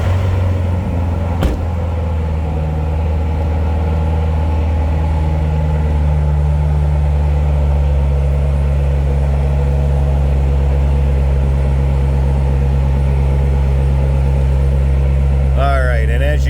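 A 2015 Chevrolet Corvette Z06 convertible fires up with a sharp burst, then settles into a steady, deep, loud idle that rumbles on evenly to the end.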